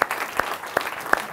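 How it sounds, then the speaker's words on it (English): An audience's applause comes through faint and distant, heard as a few scattered, separate claps rather than a full ovation. "So give yourselves a round of applause"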